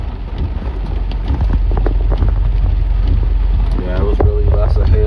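Heavy rain and hail storm drumming loudly on a moving car, a dense constant roar with wind buffeting, and people talking faintly underneath toward the end.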